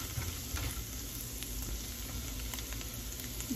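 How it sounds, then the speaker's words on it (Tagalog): Garlic sautéing in a pan for Filipino bistek tagalog, a steady low sizzle and fry with faint scrapes of stirring throughout, no voices. "Halo-halo lang hanggang mahilo yung bawang. Huwag tigilang haluin."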